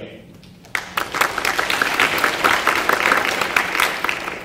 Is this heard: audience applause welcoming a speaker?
yes